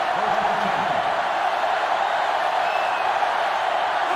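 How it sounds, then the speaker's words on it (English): A roaring stadium crowd in the college football video game NCAA Football 06, LSU against Ole Miss, a loud continuous wash of noise with no distinct breaks throughout. "It's arguably the loudest crowd in the nation, and they are turning it up a notch"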